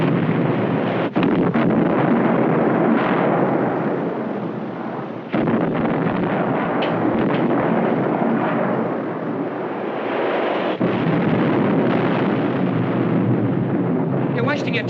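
Torpedo explosions in a 1953 naval war film, a continuous loud roaring rumble like blasts and wind-swept sea, broken by a few sharp cuts, with voices speaking over it.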